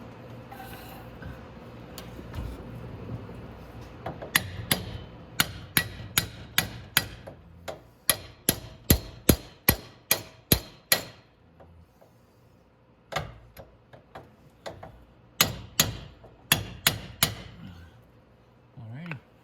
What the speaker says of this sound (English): I'm gonna have to get my hammer. I think there it is. Just tap my bearing over a tiny bit.